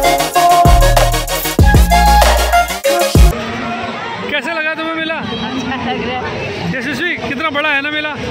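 Busy crowd babble at the Vasant Kunj fair in India: loud music for the first few seconds gives way to a dense hubbub of many voices and chatter, with nearby people talking over it.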